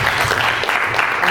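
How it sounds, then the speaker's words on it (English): A film festival audience gives a round of applause after a Q&A, a brief, full wash of clapping that stays loud and steady. "Round of applause."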